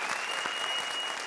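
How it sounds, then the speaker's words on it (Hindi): Loud, dense applause from a comedy show audience fills the moment, a steady wash of clapping with no breaks and no voices on top. "जोरदार तालियां।"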